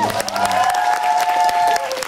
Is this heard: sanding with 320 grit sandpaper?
no